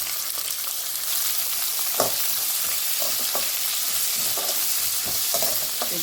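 Tomatoes fry in a pan with spices for ghee rice, making a loud, continuous close-up sizzle broken by repeated scrapes and knocks of stirring, with no voices.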